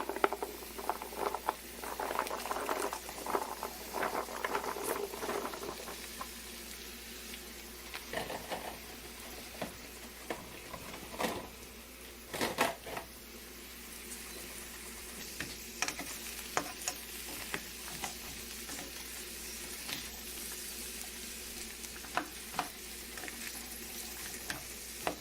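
Carrots sizzle and fry in a pan for meatless fried rice, a soft steady crackle with occasional stirring scrapes and clicks, quiet and close.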